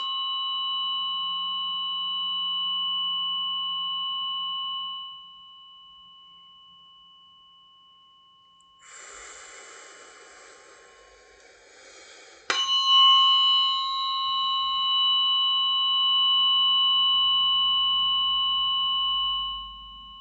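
Tuning forks ring out in a sound bath: steady pure tones that sustain and fade, then a bright metallic strike with a shimmering burst before new sustained tones swell again, calm and unaccompanied by speech.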